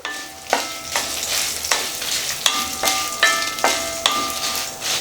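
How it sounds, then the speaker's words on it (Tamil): Chili paste made with Kashmiri chilies fries in ghee for chicken ghee roast, sizzling steadily up close while a spoon stirs it in regular scraping strokes. "அதுக்காக இதை சேர்த்துட்டு நல்லா இதிலிருந்து மணம் வர்றது வரைக்கும் இதை நல்லா ஃப்ரை பண்ணிக்கலாம்."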